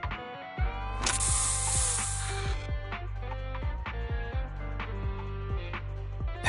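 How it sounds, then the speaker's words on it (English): A sharp spray hisses out for about a second and a half in the action game Zenless Zone Zero, set over a loud looping musical score with rhythmic bass hits. "Here, have a taste of this special Bang-Boo spray."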